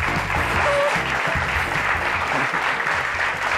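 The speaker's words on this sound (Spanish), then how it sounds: "Un fuerte aplauso para Beatriz." A TV studio audience breaks into loud, dense applause with a few voices mixed in, sustained evenly for a few seconds.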